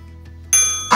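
A notification bell sound effect rings out abruptly partway through, a bright ding followed by a second, louder chime at the very end, with no voices.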